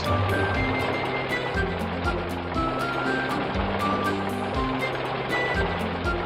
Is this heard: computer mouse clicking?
no